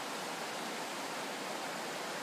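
A mountain stream at the Serizawa, a tributary of the Koshika River in Tochigi, rushes as a steady, dense broadband roar with no other sounds.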